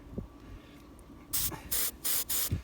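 Silicone lubricant sprayed onto an Intex automatic pool vacuum stuck in one place from sand: four loud, close hissing bursts in quick succession, each about a quarter second, after a quiet stretch.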